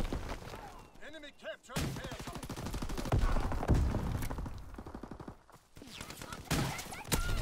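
Call of Duty: WWII combat, with a rifle grenade blast and bursts of rifle gunfire among sharp thumps, while a player talks over the clatter.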